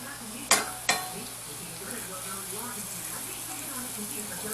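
Swiss steaks brown in olive oil in a pan with a continuous soft sizzle, broken by two sharp utensil clacks near the start, while a person speaks under the frying.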